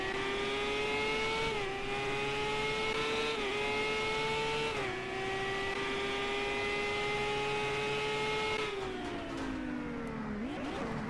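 An IndyCar race car engine howls onboard around the St. Petersburg street circuit, a loud high-pitched whine holding steady on the straights with quick upshifts, then dropping sharply under braking near the end.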